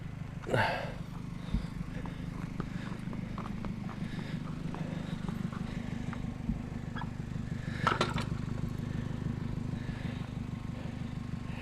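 A small four-stroke engine is pull-started with a sharp yank, then settles into a steady, even running drone. A second rattling pull or rev comes near the end.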